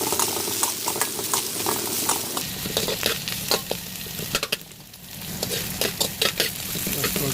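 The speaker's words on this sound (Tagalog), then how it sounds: "Tapos i-gisa ko ito." Vegetables are sautéed in a pan for pancit canton, with a steady sizzle broken by frequent scraping and stirring strokes of a utensil, close and moderately loud, with no talking.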